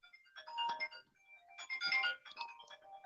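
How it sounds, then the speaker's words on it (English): A telephone rings with an incoming telemarketer call, sounding as two separate bursts of a tonal, warbling electronic ringtone at moderate volume with a short gap between them, and no talking. "Just gonna let telemarketer just keep ringing."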